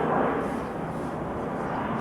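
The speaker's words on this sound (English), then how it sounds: "Sorry about the plane." An airplane passes overhead as a low, steady engine drone, loud and continuous with a slight fade across the brief moment.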